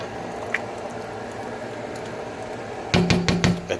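Half and half being stirred into a pot of corn and crab chowder, a low bubbling liquid bed that turns to several quick, close sloshing strokes near the end.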